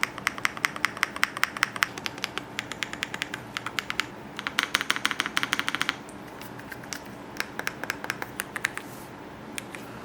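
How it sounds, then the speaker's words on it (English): Fast, steady typing on a NuPhy Kick75 mechanical keyboard, close and clear, with dense clacky keystrokes in bursts and short pauses, no talking. "And here is the keyboard itself. It looks great so far, and here is how it sounds."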